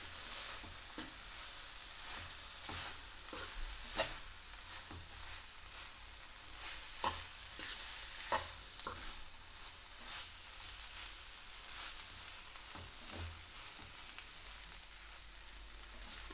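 Schezwan noodles tossed and stirred with masala in a pan give a steady, quiet frying sizzle, broken by scattered light scrapes and taps of the spatula.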